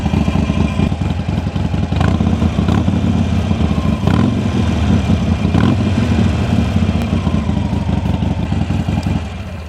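A Harley-Davidson Iron 883 motorcycle engine runs loud and close, a deep rumbling idle with a clattery pulse and a few revs rising over it, with no voices.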